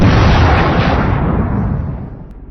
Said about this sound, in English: The shot rang out, and the boar collapsed instantly.